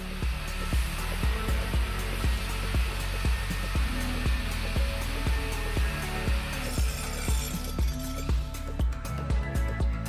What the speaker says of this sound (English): The combined power of construction vacuum cleaners and wall chasers